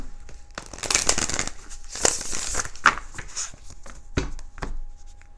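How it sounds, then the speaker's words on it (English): Quick riffling and slapping of tarot cards being shuffled, a busy run of crisp flutters and taps, close up, with no talking. "One more shuffle."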